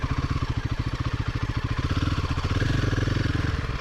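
A Royal Enfield Himalayan 450 motorcycle engine chugs nearby with a rapid, even thumping rhythm, steady and fairly loud, picking up slightly toward the end as it climbs a steep slope in the Yelagiri hills.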